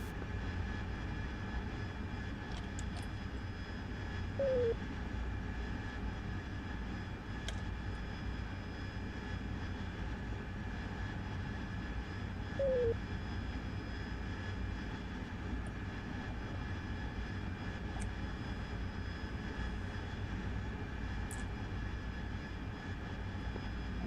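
Steady droning aircraft engine of a fixed-wing plane during a gradual descent toward a runway, a constant loud hum with faint intermittent clicks and no talk.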